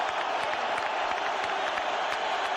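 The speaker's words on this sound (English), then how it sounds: "Listen to the boos." A boxing arena crowd at a heavyweight fight reacts loudly to a disputed decision, a dense, sustained roar of massed voices and noise filling the space without pause.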